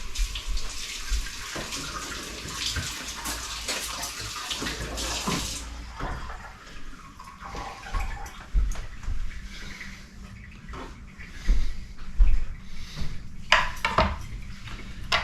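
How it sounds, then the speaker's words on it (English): Hands are rinsed under a running kitchen tap, a steady rush of water for about five seconds that then stops, followed by scattered clinks and handling noises nearby. "I gotta wash my hands before I go get pork."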